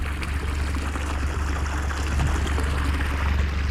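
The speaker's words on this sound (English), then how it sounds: "Don't remember the water ever running parallel to the driveway." Floodwater running across an Ohio farm beside a driveway, a steady close broadband rush and wash with low rumble, continuous throughout and no voices.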